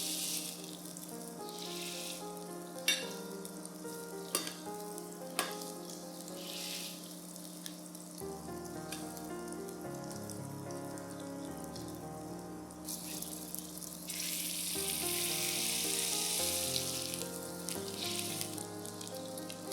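Malay meat patties with coconut fry in a pan with a steady close sizzle, with occasional sharp crackles, that grows brighter and louder toward the end, under soft background music.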